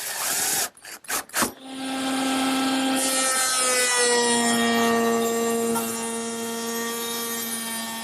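A power drill drives into an oak frame on a bookcase carcass, a few short bursts, then a long steady whining run, loud and close.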